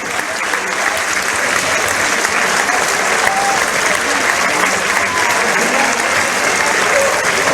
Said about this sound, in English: Standing ovation from the entire stadium